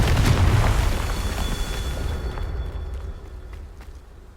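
Confringo fire spell exploding in Hogwarts Legacy, a loud booming blast with a long rumbling tail that fades over a few seconds.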